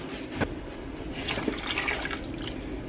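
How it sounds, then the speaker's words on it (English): Water pours into a pot of oats and light coconut milk in a home kitchen, a soft steady splashing stream with a few brighter spatters, close and without talk. "And then I'm gonna also add some water."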